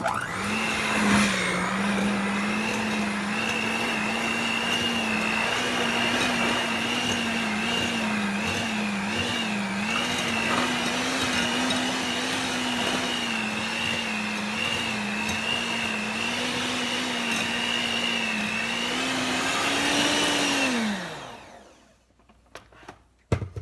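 Electric hand mixer with beaters churning cookie dough at home, a steady loud whirring motor drone that holds for about twenty seconds, wavers slightly, then winds down and stops.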